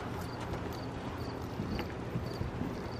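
Horse cantering under a rider in a schooling session, hooves clip-clopping in a steady, rolling rhythm close by, with soft background noise and no clear talk.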